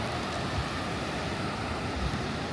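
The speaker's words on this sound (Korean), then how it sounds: "그냥 봐서는 파도가 세 보여요 지금" Strong ocean surf at Seminyak beach in Bali rolls in as a continuous, dense roar, with wind noise over it and no voices.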